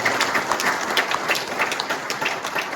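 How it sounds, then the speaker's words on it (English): An audience at a Tasmanian Men's Shed Association gathering claps in a dense, continuous round of applause, close and moderately loud with no break. "I think we can do one more round of applause."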